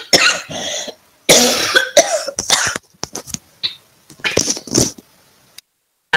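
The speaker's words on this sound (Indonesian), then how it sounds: "Saya batuk." A person coughs repeatedly in loud, close, harsh bursts separated by short silences, with some throat clearing mixed in.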